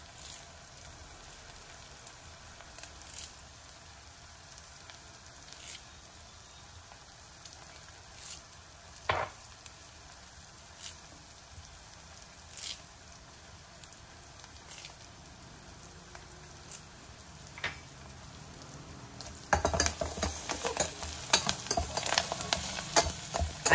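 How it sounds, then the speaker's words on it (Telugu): Ginger, garlic and curry leaves fry in a pan with a low, steady sizzle. A spoon scrapes and stirs through them with scattered clicks, and the frying turns louder and more crackly near the end. "అల్లం వెల్లుల్లి అస్సలు తడి లేకుండా వేగాలండి"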